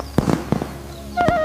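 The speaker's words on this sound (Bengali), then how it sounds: "কি দারুণ আতশবাজি" Fireworks at a night-time Durga Puja celebration crack in several sharp, loud bangs, followed by a rising whistle and another close burst.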